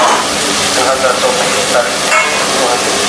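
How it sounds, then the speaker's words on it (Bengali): Pointed gourd (potol) being sautéed in a pan while cooking at home, a steady broadband sizzle and frying hiss with faint stirring scrapes, close and continuous, with no voice over it. "পটল, কিন্তু ভালো করে সুন্দর করে কষাতে হবে"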